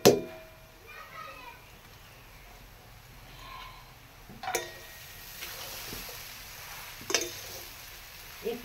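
Carrots and beans sizzle softly in a pan for a spiced puffed rice dish, with scattered stirring clicks and scrapes, one sharper clatter, and faint background voices.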